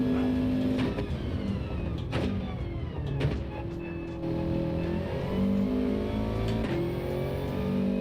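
A Subaru WRX engine in a racing video game revs steadily and loudly, its rising and falling pitch sweeping through the whole stretch over a continuous drone of game car noise.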